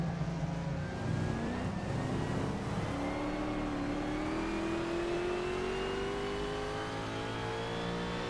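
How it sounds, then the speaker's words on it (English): Nissan historic sportscar engine in an online racing game on the Riverside track, a steady high whine that climbs slowly in pitch as it accelerates, continuous and loud, with no talk. "the Nissan's engine like really cuts the audio of it. You can hear it from forever away."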